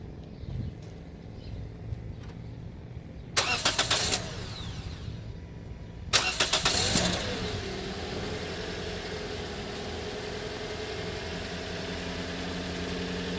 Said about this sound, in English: now we're going to start the vehicle